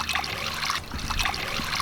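Water trickles and splashes steadily as it is poured into a container for an elephant toothpaste experiment, a continuous close pouring sound with no voices.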